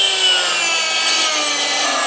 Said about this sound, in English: Now I take my Sawzall